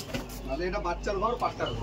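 Kaldom pigeons coo in a pigeon loft, their soft, warbling calls repeating close by while someone talks over them.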